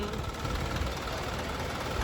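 An Isuzu Elf NPR truck's 4HL1 diesel engine idles with a steady, even low rumble and faint knocking texture, close and continuous with no talk.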